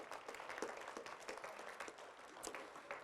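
An audience at a high school graduation ceremony applauds with faint, distant, continuous clapping that sounds like a soft rustling wash.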